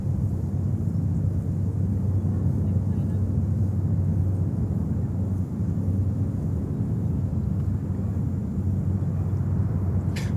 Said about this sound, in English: It's a 777-300.